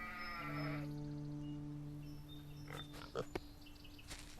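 A pig in the game Solarpunk lets out a drawn-out, bleating squeal at the start, then goes quiet while faint clicks and thumps follow.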